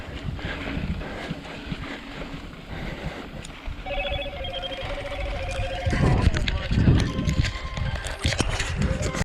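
A mobile phone rings with a repeated electronic tone pattern over outdoor wind and rumbling movement noise, fairly clear but not very loud.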